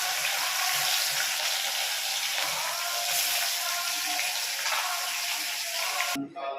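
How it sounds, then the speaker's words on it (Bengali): Fish frying in hot oil gives a steady, close sizzle and hiss for several seconds, broken off abruptly near the end. "মাছ ভাজা হচ্ছে, আর বাকিগুলো দিয়ে দেবো তেলে।"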